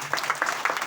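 An audience at a Hindi sermon on Abraham's faith gives a very short burst of scattered hand claps. The clapping is close and moderately loud.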